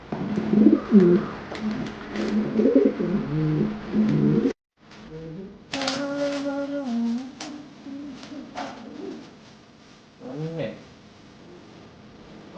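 A pigeon coos in repeated low, throaty bursts, close by and fairly loud, with a brief silent gap and other indistinct background sounds between calls.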